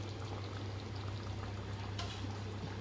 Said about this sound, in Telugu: చూడండి ఉడుకుతుంది.